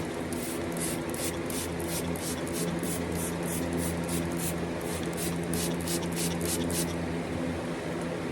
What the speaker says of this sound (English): Alright, we'll spray it.